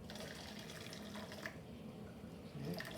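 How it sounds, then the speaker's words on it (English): Warm water pours steadily into a container sitting on a laboratory balance, a soft continuous trickle that stays faint and close throughout, with a slightly fuller splash near the end. "Okay, and I'm going to pour it. I warmed this up a little bit so it wouldn't lose heat to that."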